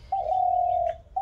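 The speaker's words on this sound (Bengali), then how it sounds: "ঘুঘু কি আজকে এরকম ব্যাকগ্রাউন্ড মিউজিক বাজাবে নাকি?" A dove in the Sundarban countryside gives a long, smooth coo in the background, followed by the start of another, over quiet morning ambience.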